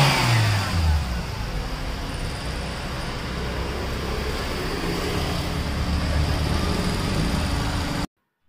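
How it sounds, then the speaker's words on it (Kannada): An older second-hand car's engine revs and runs steadily, a close mid-pitched drone that holds for several seconds before cutting off abruptly. "ಇಂಜಿನ್ ನಾಯ್ಸ್ ನೋಡೋಣ ಅಂತ."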